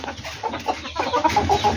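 A chicken gives soft, short clucks at close range, a few quiet calls over low background noise.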